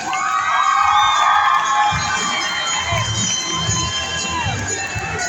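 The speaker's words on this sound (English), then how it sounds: "let's give him a round of applause, everybody" A crowd at a BMX rally cheers and whoops loudly for a rider, with children shouting among the dense, continuous roar, which tapers slightly toward the end.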